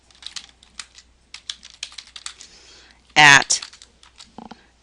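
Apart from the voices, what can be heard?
typing text on a computer keyboard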